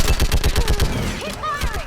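Rapid automatic gunfire crackles in a fast, even burst of shots during a Mass Effect 3 firefight, loud and close, with whooshing effects and other sounds trailing after it.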